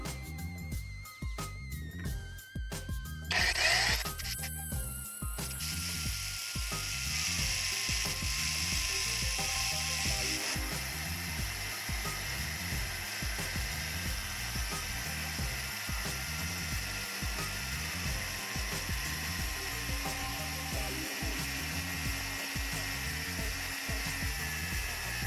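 Angle grinder cutting iron bars for a CCTV base unit, a steady high whine with rhythmic ratcheting clatter underneath, close and continuous, with the cutting screech swelling for several seconds partway through.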